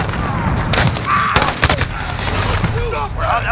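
Multiplayer gunfire in Call of Duty Modern Warfare, sharp rapid bursts and single loud shots crackling close by amid battle noise, with brief radio-style voice callouts.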